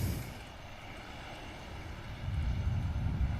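A Ryanair airliner passes over Manchester Airport, heard as a distant, faint low rumble of engines that swells slightly toward the end, with wind noise and no speech.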